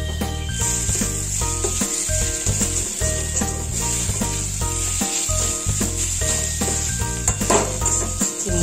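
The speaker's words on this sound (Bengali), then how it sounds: "চিনিটা মিলিয়ে দেওয়ার পরে এটাকে আমি একটু নাড়িয়ে নিচ্ছি।" A bottle gourd curry with sugar being stirred in a frying pan: a constant close sizzle with soft scraping under steady background music, and no voices.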